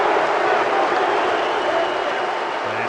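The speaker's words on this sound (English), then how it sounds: "crowd boos" A baseball crowd at Wrigley Field during the Brewers–Cubs NL Central tiebreaker game gives a sustained, loud roar of booing that fills the whole stretch with steady broadband noise.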